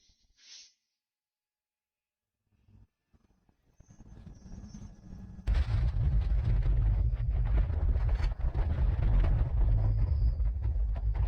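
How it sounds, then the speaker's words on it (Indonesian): Near silence broken by faint rustles, then a sudden heavy volcanic eruption blast erupts into a sustained loud, deep rumbling roar that continues to the end. "Gunung ini benar-benar meledak."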